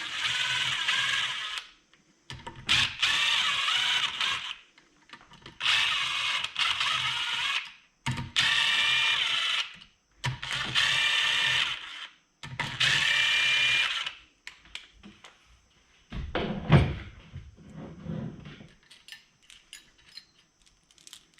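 A power gun runs out the front brake rotor bolts on a Kawasaki H1, H2 or Z1 motorcycle in six loud close bursts of whirring, each about two seconds, separated by short silences and a few clinks.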